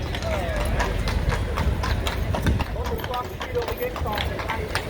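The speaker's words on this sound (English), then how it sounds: "Let's get a little gander at the horse-drawn carriage." Horse hooves clip-clop in a steady rhythm as a horse-drawn carriage passes on the San Antonio River Walk, with street noise and voices mixed in around it.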